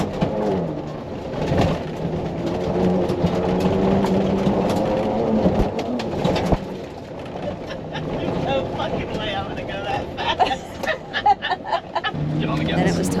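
A Ford Bronco Raptor's engine accelerating off-road, a loud, steady rumbling drone that holds near, with someone speaking over it.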